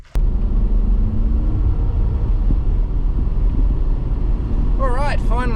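A Suzuki car on the road with a fuel leak recently fixed, heard from inside as a loud, steady low rumble of engine and tyres, with a brief voice near the end.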